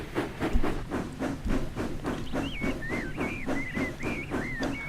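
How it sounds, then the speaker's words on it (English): A steam locomotive puffs away in steady rhythmic chuffs with hissing steam and rail clatter, a whistle-like tone weaving over the second half, fairly close and continuous. "replied Thomas, as he puffed away"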